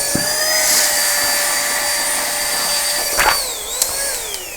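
Aspiring Gale compact cordless vacuum cleaner with a blower function running continuously, a high, whining motor tone that shifts in pitch a few times, close and loud with small bumps and clicks.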